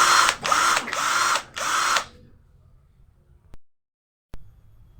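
A Morris 16.8 volt brushed cordless drill, 10 mm chuck, runs in four close, loud bursts with short pauses between them, then stops and leaves near silence broken by two faint clicks.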